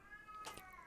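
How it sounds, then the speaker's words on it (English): A cat lets out a single short meow, faint and close, with a light harmonic tone under a quiet background. "she does this like meowing fit every night"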